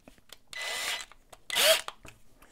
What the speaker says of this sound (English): I'm going to be putting this in a fairly small little hand drill here.